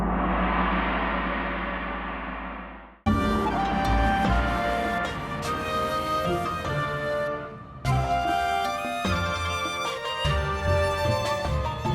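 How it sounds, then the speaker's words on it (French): A gong swell opens with a wide, rumbling wash, then gives way to a dense, loud ensemble texture of layered tones and hits that carries on to the end, with no talking. "Le gong qui fait office de serment de protection et de guérison."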